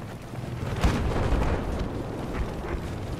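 A tank shell blast in Battlefield 4 bursts out sharply and nearby, then rumbles into a long, loud low roar of battlefield noise, with smaller booms following.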